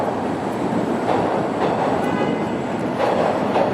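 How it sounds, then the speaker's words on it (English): A Toronto TTC subway train rumbles past close by, a loud continuous roar of wheels on rails with faint clatter and brief squeals, steady throughout. "TTC subway."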